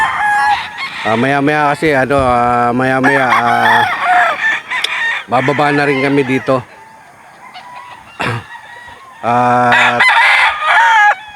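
Roosters among fighting cocks crow loudly and close by, several long drawn-out crows one after another, with someone speaking between and over them.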